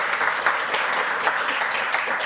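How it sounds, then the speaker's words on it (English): An audience claps together at an evening podcast milestone event, producing dense, sustained applause that fills the room evenly throughout, loud and close, with no voices above it. "Let's give him a big round of applause"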